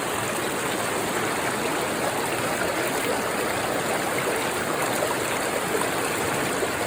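High stream water rushes through a gold panning sluice in Scotland, a constant broadband roar of flowing water, loud and steady with no breaks.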